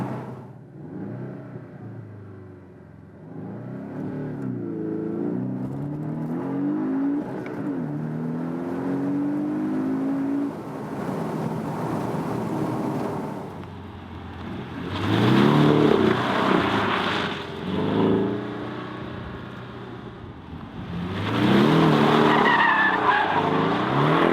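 A Porsche 718 Boxster S revs hard and accelerates through the gears, tyres squealing as it drifts, with several loud surges of engine roar and skidding over a sustained rumble.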